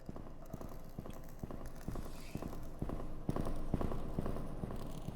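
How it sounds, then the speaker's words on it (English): Footsteps of a man walking through a corridor in an Exit 8 style game, a steady run of hard clopping steps, fairly close and loud over a constant background hum. "Yeah, you can hear his footsteps"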